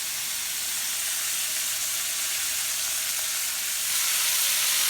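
Bonito pieces in a sugary marinade sizzle steadily in a hot oiled pan, a dense, even crackle that holds its level throughout and swells a little louder near the end, with no voices over it.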